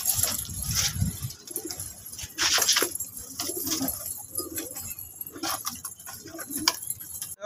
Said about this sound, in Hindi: अब कबूतर खोल रहे हैं